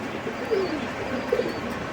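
Allahabadi pigeons give a couple of soft, brief coos close by over a low, steady background murmur.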